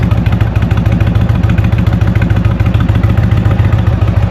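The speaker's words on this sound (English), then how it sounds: "I've got the Shark Road aftermarket exhausts on the bike." Indian Springfield Classic motorcycle fitted with Shark Road aftermarket exhausts idles on a warm Texas day, giving a steady, loud, close low-pitched rhythmic thumping with no voices.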